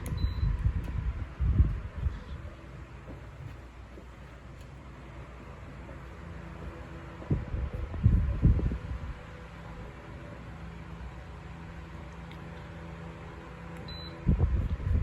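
A Pelonis stand fan oscillates with a steady whirring hum, and a low buffeting whoosh swells roughly every six seconds as the head sweeps past. A couple of faint beeps sound.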